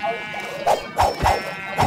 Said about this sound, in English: Oh, they all attack! But yeah, even the sheep.